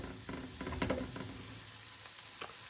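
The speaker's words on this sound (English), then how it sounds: "I'm going to let these saute down" Food sautéing in a pan for off-grid beef macaroni gives a steady, close sizzle and hiss, with a few scattered clicks and scrapes of stirring in the first second and a light tap near the end, no voices.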